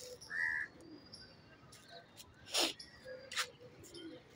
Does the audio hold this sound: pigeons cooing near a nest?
yes